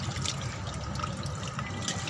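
Water rinsing cauliflower and potatoes in a kitchen, a continuous close splashing flow throughout, no talk.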